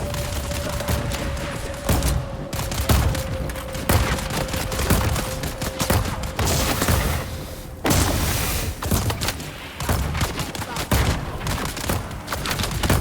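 Turret fire in the video game Dune Awakening, a loud, dense stream of rapid shots and thuds running almost nonstop, with brief pauses and a steady tone humming underneath for a while.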